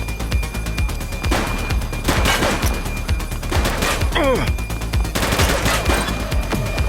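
Gunfire in the police game The Precinct, with loud, rapid bursts of automatic shots in several clusters, crackling and close, plus a brief whistling sweep midway through.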